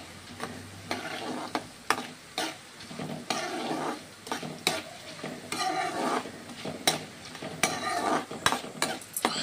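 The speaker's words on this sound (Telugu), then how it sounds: "ఆయిల్ వేడైన తర్వాత దీనిలో మనం ఇప్పుడు ధనియాలు వేసుకోవాలి. ఫ్రై చేసుకోండి, ఒకసారి కలిపేసుకోవాలి." Coriander seeds crackle and fry in hot oil for drumstick-leaf spice powder, with loud scraping stirs and metal clinks against the pan coming in repeated bursts, close and busy throughout, with no voices.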